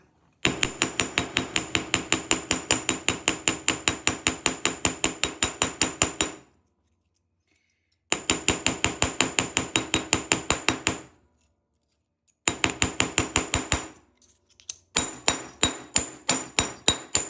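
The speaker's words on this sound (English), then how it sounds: "And then I'm gonna hammer this as well." A hammer strikes a flat metal jewelry piece to texture it, with rapid, evenly spaced close blows in three long runs separated by silent pauses, then slower, spaced strikes at the end.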